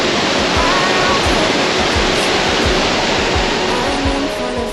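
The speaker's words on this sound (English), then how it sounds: "This, I think, is one of the best waterfalls we have seen in Tasmania today." A waterfall in north east Tasmania roars in a loud, continuous broadband rush of falling water close by, unbroken for the whole stretch with no talking over it.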